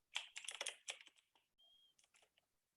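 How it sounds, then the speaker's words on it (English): Quick bursts of keyboard clacking, close and crisp, with a short high electronic tone in a pause before a few more keystrokes. "Here's some typing."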